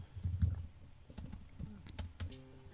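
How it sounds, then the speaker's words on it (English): Quick bursts of typing on a computer keyboard, a close cluster of key clicks with brief pauses, fairly quiet and with no speech over it. "Just type a name"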